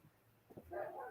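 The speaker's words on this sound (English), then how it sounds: "my dogs are acting like idiots" Pet dogs in a home give a couple of short yips followed by a higher whimpering whine, brief and fairly close, with no talk over them.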